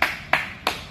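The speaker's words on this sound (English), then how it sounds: "Give yourself a clap." Three sharp, evenly spaced claps ring out close by during a children's online ninja fitness class, each a crisp single slap with no voices over them.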